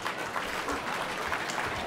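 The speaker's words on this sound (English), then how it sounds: "please clap your hands" Scattered hand clapping from an audience at an annual dinner honouring former Canadian prime ministers, a soft, steady patter heard at a distance.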